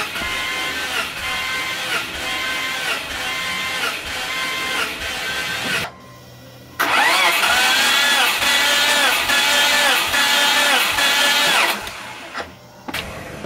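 A built-motor Subaru Legacy GT engine cranking over at full throttle during a compression test, a steady loud whirring crank that stops briefly midway, then resumes for several more seconds before cutting off.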